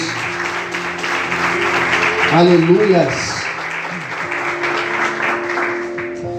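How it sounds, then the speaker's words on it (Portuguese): A church congregation claps loudly during a service, steady applause swelling briefly in the middle with a voice calling out over it and music underneath. "Você pode aplaudir Jesus bem forte"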